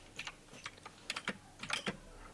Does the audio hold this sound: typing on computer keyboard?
yes